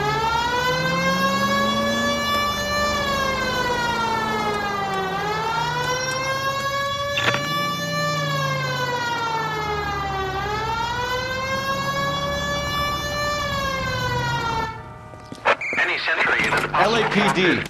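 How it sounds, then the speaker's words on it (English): A police car siren in the LA Noire video game wails in long rising and falling sweeps, loud and close over engine rumble, then cuts off abruptly near the end. "Hit the siren."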